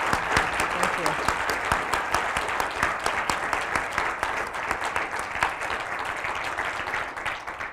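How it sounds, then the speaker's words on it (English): An audience at a social entrepreneurship award lecture claps for an award winner, steady dense applause filling the room, fairly loud and continuous before fading slightly at the end. "I'd like to give her certainly a round of applause for a well-deserved award."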